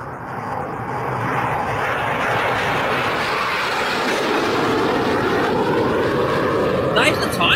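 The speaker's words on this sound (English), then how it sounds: "that jet is just too loud" A jet aircraft engine roars steadily inside the passenger cabin, a loud, constant broadband rumble throughout, with people talking faintly beneath it.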